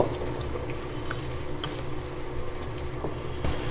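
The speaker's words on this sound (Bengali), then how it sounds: "মশলাগুলোকে নেড়ে চেড়ে খুব সুন্দরভাবে কষিয়ে নেব।" Garlic paste, chilli, turmeric, coriander powder and salt sautéing in a pan for hilsa curry, a dense continuous bubbling sizzle with faint stirring scrapes, close and steady.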